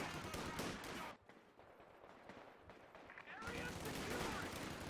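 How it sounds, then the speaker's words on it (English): Browning machine gun team firing in Company of Heroes 2, a dense rattle of gunfire and battle noise that drops away briefly mid-clip and then returns loud, with possible game voices mixed in. "Browning is also pretty good. Not so much versus austere, since they do pretty much always have access to the mortar, but is a very good machine gun team."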